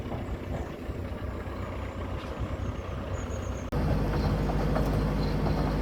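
A Morrison's delivery truck engine drones steadily up close, a broad continuous rumble that jumps louder partway through as the revs rise, with no talk over it.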